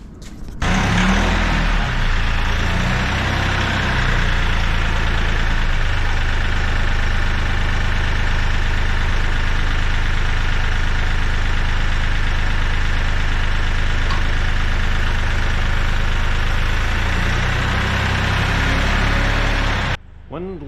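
A Kioti CK3510 tractor engine idles steadily and loudly close by, a continuous even rumble from start to finish.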